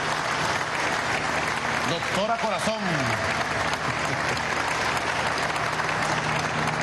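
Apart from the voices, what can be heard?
crowd applause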